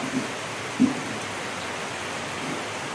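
Steady rain from Typhoon Kristine (Trami) in the Philippines hisses continuously, an even wash of falling water with a couple of faint thuds, no voices.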